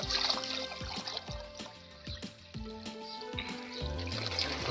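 Water trickles and gurgles as it is poured into a homemade plastic bottle bird feeder. The faint, close pour rises and falls in uneven bubbling pulses with no talking.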